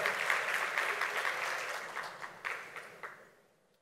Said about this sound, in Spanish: Un gran aplauso para Liferay y G.